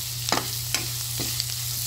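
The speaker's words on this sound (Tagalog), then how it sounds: "isabay niyo po siya sa gisa-gisa" Garlic, onion and long chili sautéing in a pan, a constant close sizzle with several brief scraping strokes of a spatula stirring at a steady pace.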